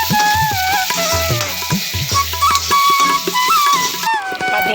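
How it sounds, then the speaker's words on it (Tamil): Sliced onions with salt sizzle and crackle in hot oil in a pan, a loud close frying hiss with stirring scrapes, while music plays over it. "வெங்காயம் எல்லாத்தையும் போட்டு ஒரு கிண்டிக்கலாம்"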